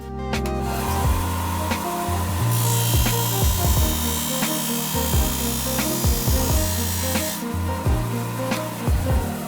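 A small Dremel rotary tool with a sanding wheel whines at high speed as it grinds against plastic headlight housing, the pitch shifting and rising as pressure is applied. Close and continuous.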